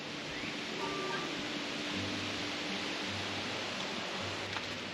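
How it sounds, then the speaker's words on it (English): Wind blows steadily through an outdoor garden, a soft broad rushing hiss that stays faint and even for several seconds, with a low rumble underneath and no speech. "And it is windy."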